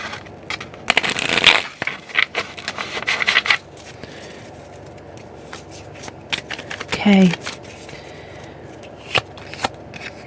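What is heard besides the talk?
shuffling cards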